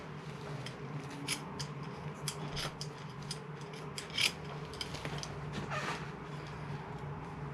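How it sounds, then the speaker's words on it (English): Scissors snipping through the roots of a ginkgo bonsai during repotting, a series of quiet, irregular clicks and creaking cuts, close and faint. "Let's get the scissors."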